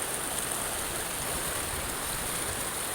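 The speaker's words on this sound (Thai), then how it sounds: "นั่งดูน้ำไหลจักจักจักจักอยู่นี่เนาะ" Water pours at a waterfall in a steady, dense broadband rush that stays even throughout, close and constant, with no voices.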